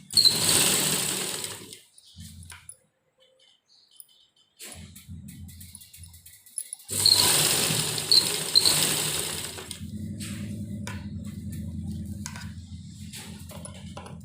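A sewing machine stitching baby dress fabric in bursts of fast, even whirring, stopping and starting with quiet gaps between runs, close and clear.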